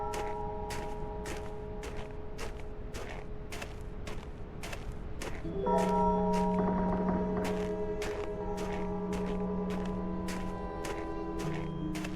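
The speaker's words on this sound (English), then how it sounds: "The bell tolls for the pain." A horror video game bell tolls midway with sustained, ringing tones over a steady, evenly spaced mechanical clicking that runs throughout.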